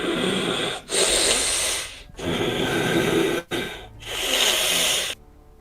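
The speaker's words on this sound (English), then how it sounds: "It's just kind of a heavy breathing." Heavy, wheezing breaths from an unseen creature, three long hissing inhalations and exhalations separated by brief pauses, loud and close with no one talking.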